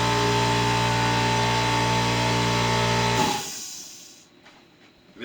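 An air compressor runs with a steady loud motor hum and drone, then spins down and cuts off about three seconds in, leaving near silence with a faint rustle at the end.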